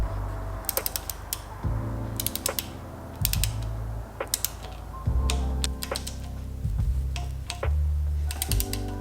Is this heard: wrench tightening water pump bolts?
yes